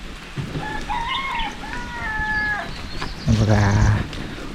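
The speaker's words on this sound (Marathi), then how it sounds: "कोंबडा पण ओरडतोय" A rooster crows in a Kolhapur village on a rainy monsoon morning, one long rising call followed by hens clucking nearby over steady background rain.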